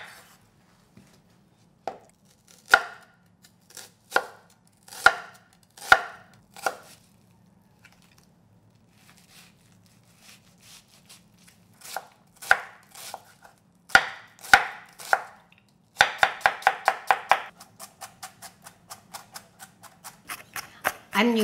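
A knife chopping onion on a board: bursts of sharp, evenly spaced thuds, then a fast rapid run of chops near the end, close and crisp, with a few gaps between bursts.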